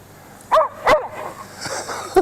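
A dog barks excitedly at a small Eachine E017 beginner's drone, giving a few loud, close yelps and barks mixed with whiny whimpers over faint background hum.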